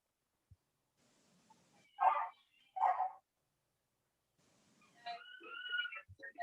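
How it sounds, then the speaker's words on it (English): A dog barks twice in quick, loud bursts from a short distance, then after a pause gives a longer whining, yelping call in otherwise quiet surroundings. "it sounds like somebody's dog needs attention"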